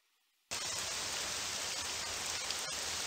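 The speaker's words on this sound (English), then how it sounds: "Oh, it's raining again." Steady rain falls in the video game Morrowind, a constant hiss that starts abruptly and holds evenly at moderate level, with no talk over it.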